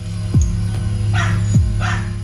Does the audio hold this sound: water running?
no